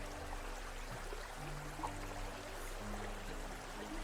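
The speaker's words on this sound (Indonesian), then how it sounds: "Suara gemericik air sungai." Babbling river water flows in a steady, low wash under a constant background hum, fairly faint and continuous throughout.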